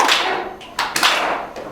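Group of children clapping hands in a music lesson, a few sharp claps at uneven spacing rather than a clean unison rhythm, close and fairly loud with no voices.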